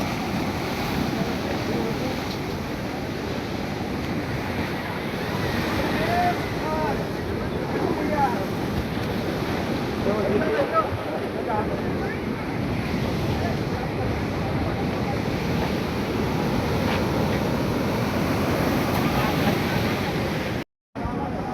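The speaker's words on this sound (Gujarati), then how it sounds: "કેવા મોજા ઉછળે તો મિત્રો." Rough, storm-whipped sea waves crash along the Dwarka seashore in a continuous roaring wash, with wind buffeting the microphone and a brief dropout near the end.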